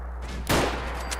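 A single sharp gunshot from a firearm in the Fallout 4 video game, one loud burst that fades quickly over a steady low background hum.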